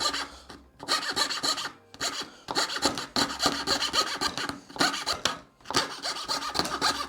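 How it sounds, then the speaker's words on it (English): A rasp files a wooden backplate in steady bursts of coarse scraping strokes, close and loud, broken by brief pauses between sets of strokes. "I'm leaving it ever so slight bit to adjust with the rasp or the file."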